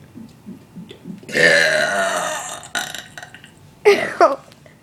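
One long, loud, rumbling burp is followed by a couple of shorter belches at a New Year's get-together, with faint chatter in the background.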